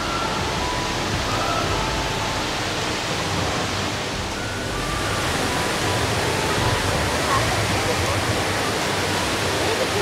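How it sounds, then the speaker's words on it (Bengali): Rain Vortex, the towering indoor waterfall at Changi Airport in Singapore, roars as a steady, dense wash of falling water, loud and unbroken throughout. "পৃথিবীর সর্ব উঁচু বা সর্ববৃহৎ ঝর্ণা এটি, রেইন ভর্টেক্স"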